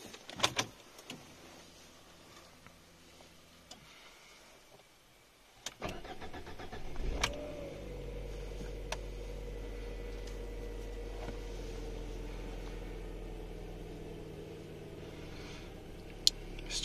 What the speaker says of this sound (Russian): Заведем нашу весточку.